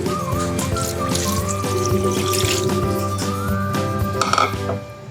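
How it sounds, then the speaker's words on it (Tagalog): Water pours into a cooking pot of pinakbet with a bubbling, gurgling splash, rising in pitch as it fills, over a low steady hum. "lagyan na natin ng tubig"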